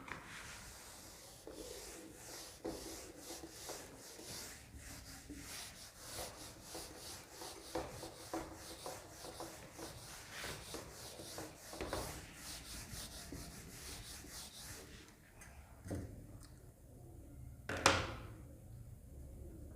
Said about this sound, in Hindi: ये पहले रब कर लेते हैं।